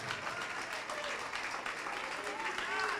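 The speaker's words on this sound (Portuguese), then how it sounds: "vamos aplaudir ao Senhor Jesus" A church congregation applauds in a steady wash of clapping, with a voice speaking over it.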